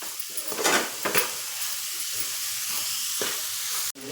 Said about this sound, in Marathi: गूळ आणि खोबरं असं भाजून घ्यायचं.